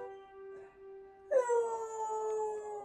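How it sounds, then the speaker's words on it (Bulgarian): A dog howling in a long, tonal, wavering wail that rises sharply midway and then slowly sinks, loud and close against a quiet background. "Милото кученце."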